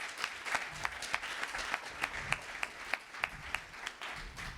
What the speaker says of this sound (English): Let's give these guys a good round of applause.